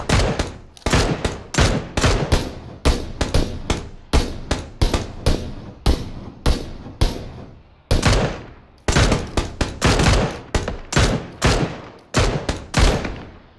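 Rapid bursts of rifle fire in a multiplayer battle royale shooter, loud repeated shots in quick clusters with brief gaps, sustained for the whole stretch.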